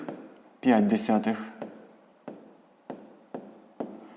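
A math solution for a sixth-grade exercise being written by hand starts under a spoken voice, then continues as a series of short, distinct pen strokes on paper at fairly even intervals, close by.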